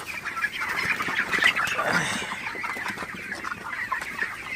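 A flock of broiler chickens in a hot shed keeps up continuous, overlapping clucking and low chatter at moderate volume, with no voices.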